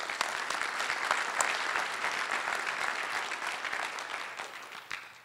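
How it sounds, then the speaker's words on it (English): A large application-security conference audience applauds the staff, a broad wash of many hands clapping at moderate distance, steady for several seconds and tapering slightly at the end. "So also a big applause to the staff who made this possible."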